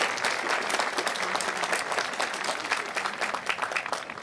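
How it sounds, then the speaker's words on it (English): Sustained applause from a crowd at a Marian University undergraduate commencement ceremony, steady dense clapping filling the hall for several seconds without a break. "Let's give them a round of applause for what they do for Marian University."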